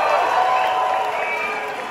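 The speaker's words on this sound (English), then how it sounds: "please give another round of applause to our good friend June" A concert audience at Newcastle City Hall gives a dense wash of applause and cheering for the opening act, loud and steady and fading slightly toward the end.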